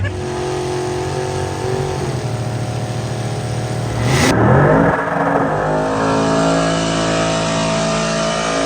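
A big diesel engine in the JH Diesel Mega Truck 2.0, a custom-built pulling truck, idles loudly, revs up sharply, and holds a raised, steady drone close by.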